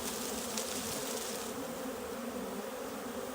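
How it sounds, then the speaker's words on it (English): Dense, steady buzzing of a honeybee swarm in the air, a continuous droning hum close by with no other sounds. "You can really hear it too when the bees get up in the air like that."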